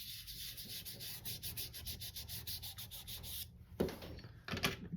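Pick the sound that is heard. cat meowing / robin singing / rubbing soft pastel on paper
rubbing soft pastel on paper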